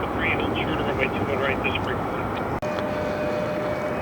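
A jet airliner at Detroit Metro airport gives off a steady, loud broadband roar while it taxis or departs, and a radio voice chatters over it throughout.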